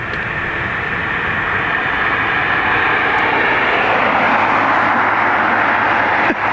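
An airliner takes off from runway 28 right at Dublin Airport, a loud, broad jet roar rising steadily and holding strong across the whole stretch.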